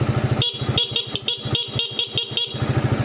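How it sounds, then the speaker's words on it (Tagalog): A Raider motorcycle's loud horn beeps in a rapid series of short bursts over the idling engine, loud and close. "Pag pinindot nyo to, loud horn."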